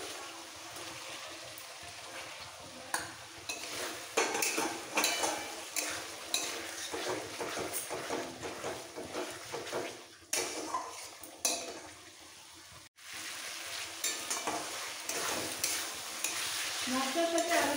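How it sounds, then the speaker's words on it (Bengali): Fried potatoes being stirred with a ground green and dried chilli paste in a pan, a steady close sizzle with repeated scraping and clinking of a ladle against the pan, no talk. "মশলার সাথে আলুটা কষাতে কষাতে দিয়ে দেবো টক দই"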